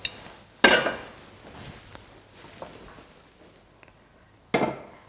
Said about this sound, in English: So I'm just going to pop my pasta strainer in the pot I'm going to cook my soup on